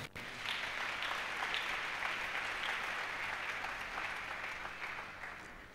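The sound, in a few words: congregation applauding in church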